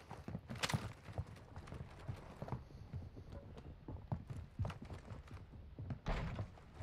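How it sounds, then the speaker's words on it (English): Footsteps in the Call of Duty: Modern Warfare II video game make an irregular run of soft thuds and taps, moderately close, over a low ambient background. "I hear footsteps."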